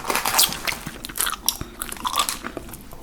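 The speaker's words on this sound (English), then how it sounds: "I will chew this Big League Chew" Big League Chew original flavor bubble gum being chewed up close, with wet crunchy bites and sticky mouth sounds in an irregular rhythm, quiet and intimate with no talking.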